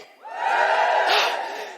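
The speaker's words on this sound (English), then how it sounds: "Give us a cheer if you've been." Live podcast audience cheering and whooping together in a room, swelling quickly and holding for about a second and a half before fading slightly, with no talk over it.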